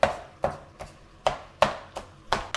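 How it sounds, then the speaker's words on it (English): A knife chops confit pork rib meat for carnitas tacos on a board, seven or so sharp, evenly spaced thuds in a steady rhythm, close and alone. "Give this a really good chopping."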